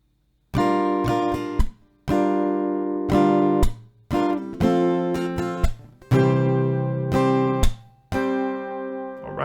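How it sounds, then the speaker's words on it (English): Acoustic guitar strums a chord progression at a slowed pace, with bursts of down-strums broken by short gaps where sharp claps fall, close and clear with no voices. "So one chord progression with the strumming will sound like this,"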